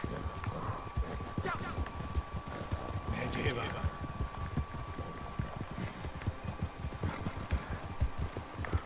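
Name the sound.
horse galloping in Red Dead Redemption 2 video game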